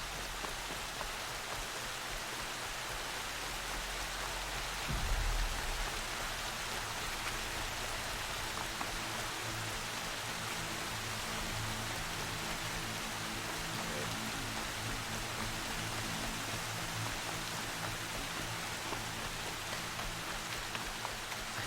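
Steady rain pours in the video game Horizon Zero Dawn, a dense, even hiss filling the whole stretch with a brief low thump early on, no voices.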